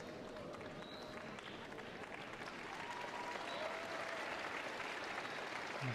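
Crowd at a Youth Olympic ice dance free skate in Lillehammer applauds an Estonian pair with sustained, even clapping heard at a distance across the arena, swelling a little toward the end.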